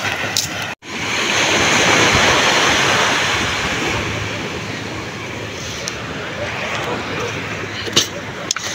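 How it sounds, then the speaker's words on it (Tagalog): Ocean surf rolls onto the beach front at Infanta, Quezon, a loud, continuous wash of breaking waves mixed with wind buffeting the microphone, swelling early and then easing slightly. "Ito yung dagat na yan"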